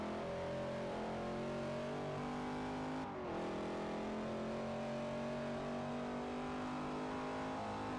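A race car engine in the Forza Motorsport 4 video game revs loudly and continuously, its pitch climbing, dipping briefly at a shift, then climbing again.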